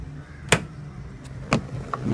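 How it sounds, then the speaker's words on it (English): A car's rear-door child safety lock being switched to unlocked, giving a few sharp, close mechanical clicks spaced about a second apart over a quiet background. "Now I am unlocking the child safety lock."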